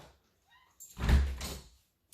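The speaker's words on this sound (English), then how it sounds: "we're going to have to take the band off of the door" A resistance band is pulled free from a door during a home workout, giving a short, close thump and rustle of the door and band, with a brief scraping release and nothing before it but near silence.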